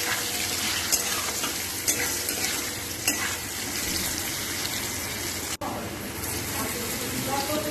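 Boiled green banana peels sizzling with turmeric in a pan of hot oil, a steady close fry with a few sharp clicks of stirring, under a voice.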